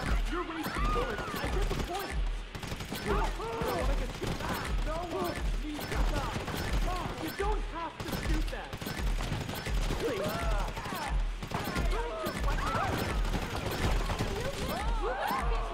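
Sustained gunfire in the PC game GTA 5, rapid bursts of shots repeating throughout, mixed with mechanical clicks, under continuous conversation between players.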